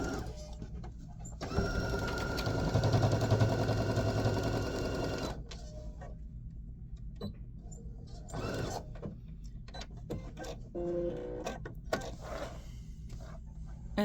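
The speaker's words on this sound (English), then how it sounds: "I'm going to sew that 1/4 inch seam right through here" A sewing machine runs a quarter-inch seam on a fabric wine bag. Its motor hums steadily for a few seconds, then gives way to quieter clicks and handling noises.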